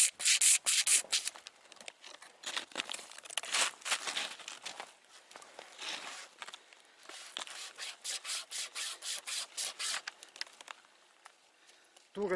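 A camping string saw rasps through wood in a long run of rhythmic back-and-forth strokes, close and scratchy, speeding into quick regular pulls near the end.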